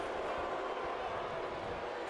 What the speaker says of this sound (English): you could hear the crowd there not happy with that move